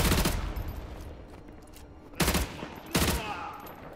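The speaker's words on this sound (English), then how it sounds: "Where am I getting shot from now?" Gunfire in Call of Duty: Modern Warfare 2 Remastered, on the Contingency level: three loud, close bursts stand out over a quieter backdrop of scattered distant shots.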